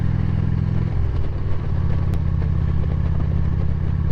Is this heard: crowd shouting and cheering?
no